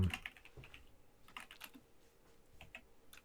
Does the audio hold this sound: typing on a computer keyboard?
yes